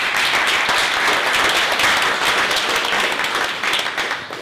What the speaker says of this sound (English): if we get a nice big, loud round of applause for our authors